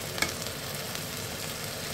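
Potatoes frying in a pan for goat curry, a steady, even sizzle and crackle of hot oil with a few faint pops, continuous and close with no talking.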